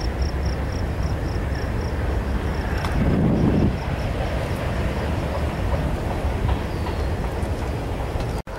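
A train rumbles past in the distance at Indiana Dunes in a steady, broad roar with a faint rhythmic clatter, swelling briefly midway and holding until an abrupt cutoff.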